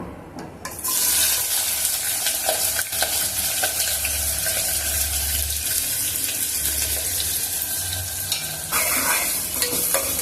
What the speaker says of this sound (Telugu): కొద్దిగా ఉల్లిపాయ ముక్కల్ని వేయించుకున్నాము ఇంకా కొద్దిగా వేయించుకున్నాము